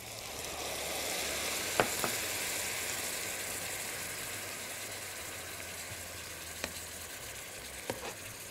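Spicy duck breast sizzling skin-side down in a pan, a steady close frying hiss with a few faint clicks and taps, no talking over it.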